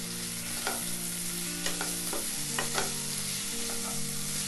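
Capsicum frying in a pan for rice upma, a steady close sizzle broken by a handful of sharp scraping strokes as it is stirred, with a faint hum underneath and no speech.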